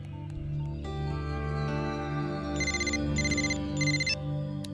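A telephone rings in a film scene, its electronic ringtone repeating in short bursts over a steady musical background, clear and fairly prominent with no talk.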